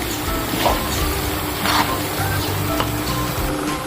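Kwetiau noodles stir-fried with mustard greens and spring onion in a hot pan, a continuous loud sizzle with scraping stir strokes and bursts of spattering.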